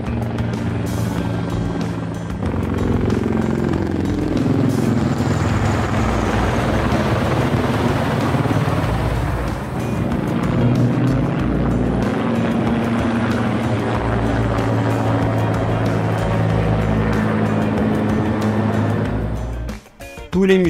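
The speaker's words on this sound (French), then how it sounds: "Le ciel de Washington est sillonné en permanence par des hélicoptères de la police ou de l'armée." Police or army helicopters flying over Washington produce a loud, steady rotor drone that lasts nearly the whole stretch before cutting away near the end.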